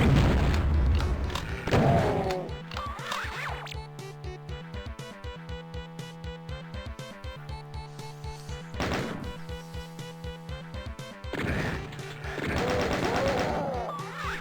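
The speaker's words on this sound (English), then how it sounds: "Use the shotgun to get him, take him out, and boom." Shotgun blasts and explosive booms from DOOM II, set against a steady, heavily pulsing game soundtrack, with a few louder bursts of gunfire standing out near the start and the end.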